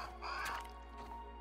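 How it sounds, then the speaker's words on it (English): A crow caws once in the video game Grounded, a short, fairly faint harsh call over steady low background hum. "That was the crow again."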